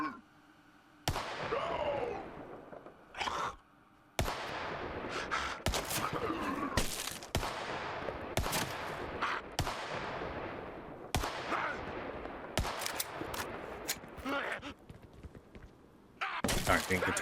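Gunfire in the zombie survival game Vorax, bursts of loud sharp shots in irregular volleys separated by short quiet gaps, with occasional game noises between them.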